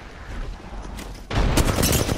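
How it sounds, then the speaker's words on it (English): Gunfire in Apex Legends: a short low rumble, then a sudden loud burst of rapid shots that keeps rattling on, with a second sharp volley layered over it. "I'm shooting her"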